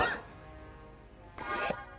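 One person coughs twice, a short burst at the start and a stronger one near the end, close to the microphone in a quiet room.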